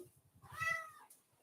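A cat meows once, drawn out and fairly close, standing out over a low rhythmic hum in a quiet room.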